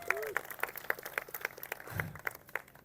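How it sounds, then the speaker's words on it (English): Faint applause from an audience at a supercar club opening keynote, a thin patter of claps in a steady rhythm with low background murmur. "So if you guys want to give them another round of applause"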